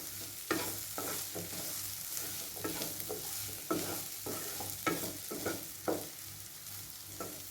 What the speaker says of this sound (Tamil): ஒரு 3 நிமிஷம் நல்லா ஃப்ரை பண்ண விட்டுக்கலாம்.